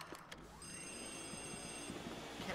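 A telephone rings in a haunted-mansion video game during a blackout: a steady electronic ringing tone holds through most of the short stretch at moderate level, with a few soft thumps and no speech.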